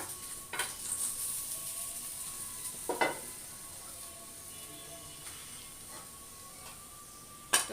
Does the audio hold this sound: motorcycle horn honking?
no